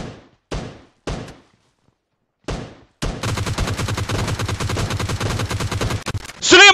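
Rapid automatic gunfire in the PUBG Mobile battle royale game rattles loudly and steadily for several seconds, preceded by a few separate sharp shots with gaps between them, ending in a brighter burst.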